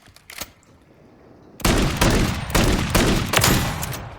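Winchester Model 1887 shotgun firing slugs in Call of Duty Modern Warfare III: after a quiet start, a burst of loud, close gunfire begins, with several heavy blasts at a steady rhythm and no talk.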